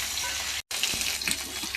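Papaya pieces fry lightly in a pan for fish curry, a continuous close hiss of sizzling oil broken by one brief silent gap, with a few soft clinks of stirring.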